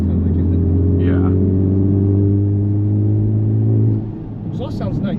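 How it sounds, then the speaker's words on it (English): A 2025 Honda Civic Type R's exhaust drones steadily while driving, a loud, close, low hum that drops in pitch after a few seconds, with brief voices talking inside the cabin. "The exhaust sounds nice."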